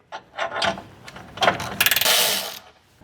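A 13 mm socket on a ratchet removing bolts from a 2024+ Ford Ranger during a reverse light kit install: several quick clicking ratchet bursts, then a fast run of sharp clicks, close and clear.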